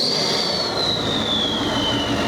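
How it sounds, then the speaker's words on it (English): A truck's 2020 KC Whistler turbo spools with a loud, piercing whistle that slides gradually downward in pitch over a constant roaring engine, close and sustained with no gaps. "A 2020 KC Whistler Turbo."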